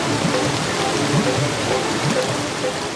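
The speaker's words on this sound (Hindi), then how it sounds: "ये आवाज कैसी है? हम झरने की तरफ बढ़ रहे हैं।" Steady broadband rushing roar of a waterfall heard from nearby, a constant dense wash of falling water with no break and no voices.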